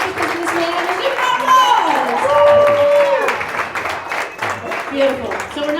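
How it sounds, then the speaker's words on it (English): Audience applause at a 2013 coaching presentation rolls on steadily, mixed with voices shouting and cheering over the clapping. "a round of applause."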